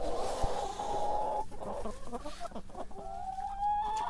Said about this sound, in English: we got probably 27 or 30 chickens now